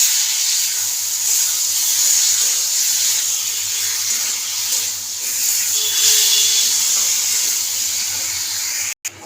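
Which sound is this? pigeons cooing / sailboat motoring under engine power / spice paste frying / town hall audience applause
spice paste frying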